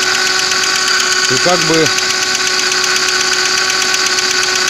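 A car engine with a knocking fault runs at a steady idle just after two litres of oil were added, a loud constant rumble with rapid tapping, and someone speaks briefly over it.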